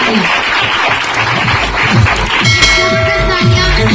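An audience at a Dolphin Travel Marketing company motivational event claps loudly and steadily, a dense continuous wash of applause with a voice heard over it.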